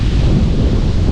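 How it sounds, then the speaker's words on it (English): Strong wind buffets the microphone in a steady, loud low roar throughout, heard from about 20 feet up in a hunting stand in Montana. "Wow, it's windy."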